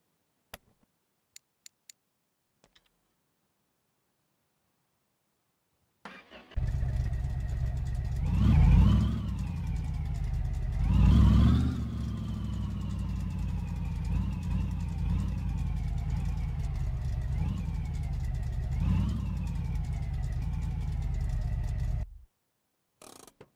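A truck engine starts after a few faint clicks and then runs steadily at close range, revving up twice while it turns around before shutting off abruptly.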